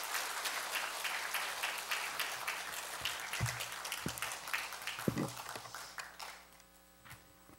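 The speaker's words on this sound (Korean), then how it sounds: "박수로 환영하시겠습니다" A church congregation claps to welcome the speaker, dense steady applause filling the room at moderate level, with a few sharp knocks and thumps, then tapering off at the end.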